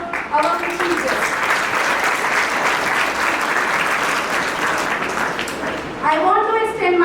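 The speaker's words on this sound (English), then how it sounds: "A huge round of applause for our chief guest." Sustained applause from a ceremony audience greeting the chief guest at a school investiture ceremony, steady and dense for several seconds, with a voice speaking over it at the start and again as it fades.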